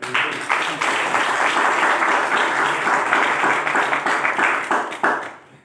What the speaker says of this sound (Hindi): अच्छा लग रहा है, ताली बजा लो यार